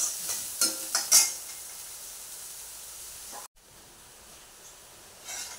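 Onions frying in a pan make a constant soft hiss, with a few clattering stirs near the start and a brief break in the sound partway through.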